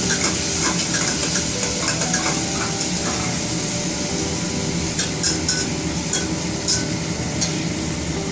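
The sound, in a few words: whole onions frying and being stirred in a pan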